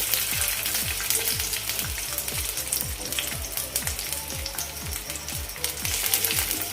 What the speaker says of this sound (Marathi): आता या तेलामध्येच आपण लसूण फ्राय करून घेऊया